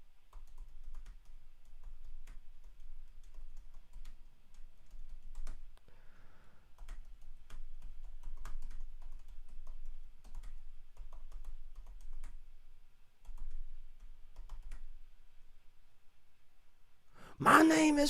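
Rapid keystrokes tap on a computer keyboard, quiet and close, in irregular bursts that continue throughout, followed by a sudden louder sound at the very end.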